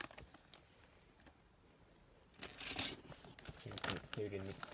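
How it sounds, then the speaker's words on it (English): Model railway brake van kit parts being pulled from a plastic bag, with close crinkling and rustling in the second half of the clip after a quiet start. "Let's get everything out of the plastic bag."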